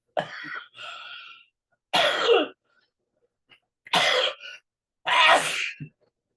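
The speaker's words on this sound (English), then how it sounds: "he had a coughing fit right at the end" A person coughs in a fit of harsh, hacking bursts, four or five coughs with short pauses between them, close and clear against silence.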